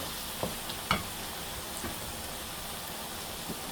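Potatoes added to a frying pan of methi saag, giving a steady close sizzle with a couple of soft knocks as they drop in and are stirred.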